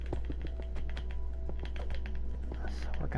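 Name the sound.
computer keyboard and mouse clicking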